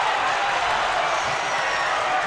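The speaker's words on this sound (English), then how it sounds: "Geneva crowd does not like the call" Crowd at a Geneva Panthers versus Waterloo Indians high school basketball game reacts to a foul call, a dense, steady roar of voices filling the gym without a break.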